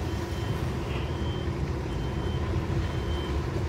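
A truck maneuvering in reverse sounds its reversing alarm as faint, evenly spaced beeps over the heavy, steady rumble of its engine.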